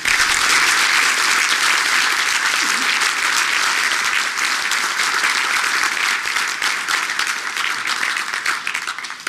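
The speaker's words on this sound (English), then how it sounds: "Let's have a nice round of applause for these people." Sustained, loud crowd applause fills a Hall of Fame induction ceremony for Indiana high school baseball coaches at the Sheraton Indianapolis, steady clapping from start to finish.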